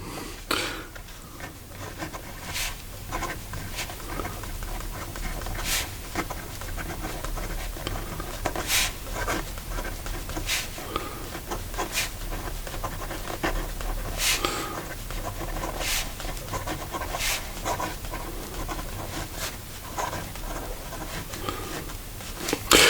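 A Visconti fountain pen with a fine 18 karat gold nib scratches steadily across paper, a soft continuous rasp close up with periodic sharper ticks as strokes begin and lift.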